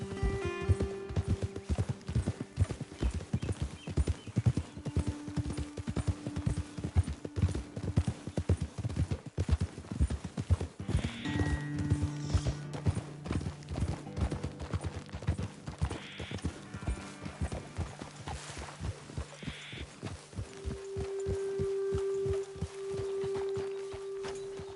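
Horses' hooves clip-clop steadily in Red Dead Redemption 2, a continuous walking rhythm of close hoof strikes with a brief whinny and low ambient game sounds underneath.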